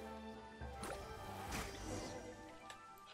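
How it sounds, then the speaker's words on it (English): Water is poured into a cooking pot in the video game Genshin Impact, a soft, quiet gurgling slosh and drip lasting a few seconds over steady game background music. "Water into the cooking pot."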